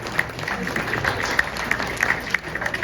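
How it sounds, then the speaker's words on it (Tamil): An audience at a Tamil school drama gives steady, moderately loud applause with scattered sharper claps throughout and a faint crowd murmur beneath. "கைத்தட்டுங்களேன்."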